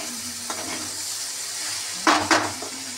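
Spoon stirring ridge gourd and potato dal in a pot with a soft sizzle underneath, then two sharp scraping knocks against the pot near the end, close and otherwise quiet.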